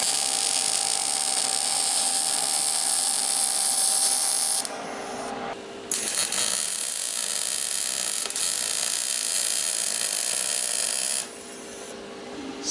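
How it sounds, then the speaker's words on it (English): Gasless MIG welding of a dump pipe onto a turbo, a steady loud crackling hiss in long bursts with short pauses between beads, close up and without talk. "So we just got a pipe, we're welding it straight to the turbo"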